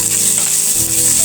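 Ingredients for Bengali vorta fry in a pan with a dense, continuous sizzle heard up close, loud and alone.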